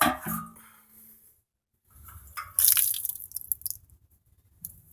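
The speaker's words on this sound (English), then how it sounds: "Right now I need to dispose of this water, which I'm going to do now." Water is tipped out of a small DIY sink basin in a camper van, giving a few faint splashes and drips between quiet gaps, with a brief louder gush midway.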